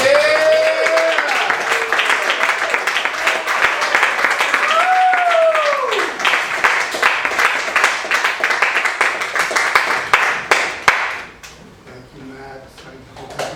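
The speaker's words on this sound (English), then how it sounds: "Let's have a big round of applause for Greg Masters." An audience claps through an evening poetry reading at Beyond Baroque, the steady applause filling most of the stretch with a voice cutting in near the start and mid-way, then the clapping fading as someone begins speaking.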